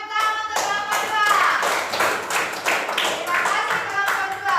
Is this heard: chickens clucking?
no